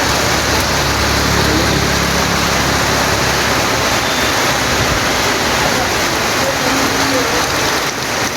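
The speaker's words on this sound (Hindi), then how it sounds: "ये देखो ये लगी है अपनी बाइक और खतरनाक बारिश हो रही है।" Heavy monsoon rain pours down on a mountain road near Dhanaulti in Uttarakhand, a loud, dense, unbroken hiss that fills the whole stretch, with a faint engine hum underneath.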